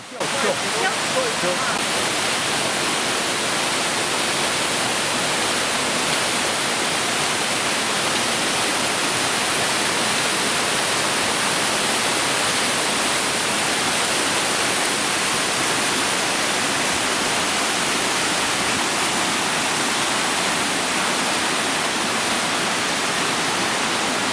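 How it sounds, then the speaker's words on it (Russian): Steady roar of the Black Tulip waterfall in Abkhazia, a dense broadband rush of falling water heard close and loud, unbroken for the whole stretch with no other sounds standing out. "Мы находимся возле водопада Черный тюльпан."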